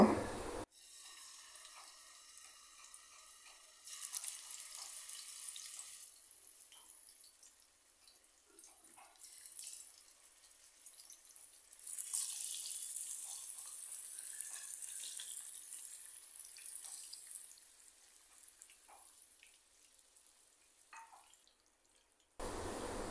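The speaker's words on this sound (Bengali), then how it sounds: "মাছগুলোকে উল্টে পাল্টে এপিট ওপিট ভালোভাবে ভেজে নেব।" Marinated katla fish pieces frying in oil in a pan, a steady hissing sizzle that swells and fades over about twenty seconds, moderately loud and close, with no talking.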